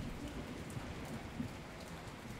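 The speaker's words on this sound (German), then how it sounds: "Es regnet." Steady rain from the video game Pre-Civilization Egypt, a soft, even patter that fills the short stretch at moderate level, alone with no voices.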